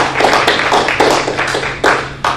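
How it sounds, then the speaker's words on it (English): A short burst of scattered hand clapping from a small group at a school board meeting, uneven and fairly close, fading after a couple of seconds. "if we could just do a quick little round of applause for Mr. O'Neill."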